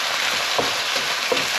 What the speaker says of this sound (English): So now we'll go in with the 2 cloves of chopped garlic and give that a quick stir.